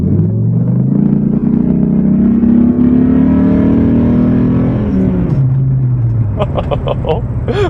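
A modified 2006 Dodge Ram SRT-10 pickup with a V10 engine of over 500 horsepower revving hard as it accelerates, pitch climbing through the gears with a deep rumbling roar, close and loud.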